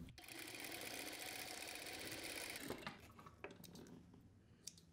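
A sewing machine stitches a fabric drawstring in a fast, steady whirring run for almost three seconds, then stops, followed by a few faint clicks and handling sounds, with no talk.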